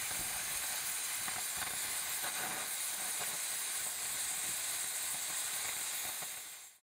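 A cutting torch runs on a steel rail during thermite rail welding prep, cutting through the web up to the rail head; a steady, loud, broadband hiss roars continuously for about seven seconds before cutting off abruptly.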